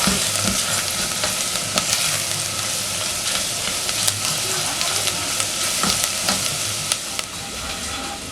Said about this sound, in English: Stir in and let the spices cook together with the onions.